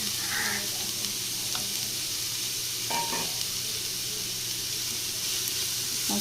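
Chopped onions sauté in hot coconut oil with a soft, steady sizzle and hiss, punctuated by a few light clinks and stirring scrapes, close but fairly quiet with no voices.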